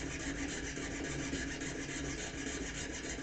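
Steady rasping cut into a guitar inlay piece while an X shape is worked out, continuous close friction noise like fine sawing or filing, with no talk.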